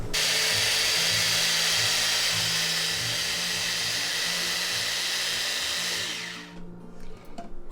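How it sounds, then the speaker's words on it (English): A food processor blends stinging nettle pesto with a loud, steady whirring roar that runs for several seconds, then winds down and stops, leaving a few faint clatters. "now I'm just gonna blend the devil out of it"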